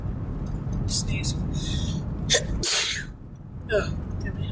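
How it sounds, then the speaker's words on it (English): A single loud sneeze bursts out near the mic of a car during a post-storm drive, set against steady road rumble, with a gasp-like intake before it and a brief follow-up exhale. "Sneeze."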